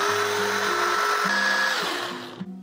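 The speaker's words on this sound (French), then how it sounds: "Et on va commencer à mixer. On mixe jusqu'à ce qu'on voit plus les oignons et que ce soit un peu homogène." A blender purees onion with lemon juice for tarama, a steady loud motor whir that dips and changes pitch several times as the blades catch, then winds down at the end.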